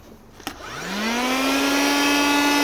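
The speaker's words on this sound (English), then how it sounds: "Now we try to use this vacuum cleaner for car." Handheld 12V car vacuum cleaner switched on after a click, its motor whine rising quickly and then holding a steady, loud, close drone with a bright hissing airflow, no voices.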